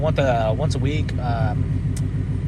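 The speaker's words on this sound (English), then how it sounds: "We're just gonna let this car idle for a little bit." A 2019 Ford Mustang GT with the 10R80 transmission, running E85 on a flex tune, idles with a steady low burble while someone talks over it.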